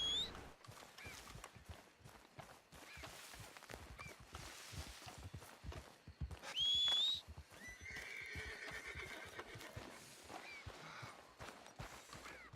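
Rhythmic clip-clop of horse hooves in Red Dead Redemption II moves along steadily, broken midway by a loud, shrill whinny, then the hoofbeats continue.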